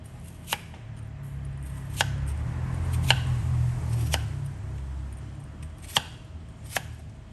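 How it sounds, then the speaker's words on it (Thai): A knife thuds sharply through firm winter melon on a cutting board, about six distinct chops at an uneven, unhurried pace, close by with no talking. "จากนั้นก็จะมาหั่นฟักค่ะ"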